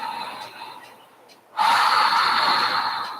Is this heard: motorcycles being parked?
no